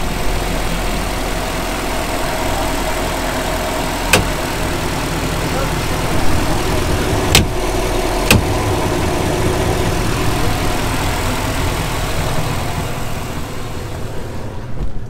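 A 2009 Chaparral 236 SSx boat's 350 Mag MPI engine idles in a steady low drone, with a few brief clicks over the continuous rumble and faint voices in the background.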